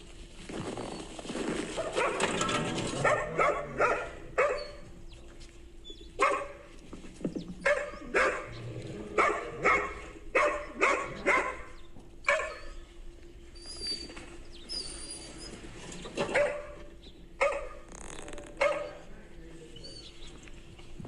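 Several dogs bark in short repeated bursts at close range while a group of dogs scuffles, with barks recurring every second or so and some bird calls in the background.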